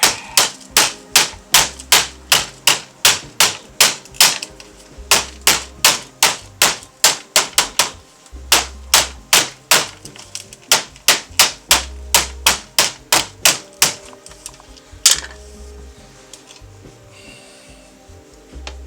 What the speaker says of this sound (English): Literally just hit it with a hammer